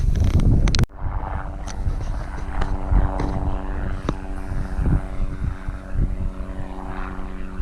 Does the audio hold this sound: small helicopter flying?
yes